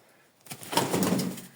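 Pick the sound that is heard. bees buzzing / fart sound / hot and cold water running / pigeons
pigeons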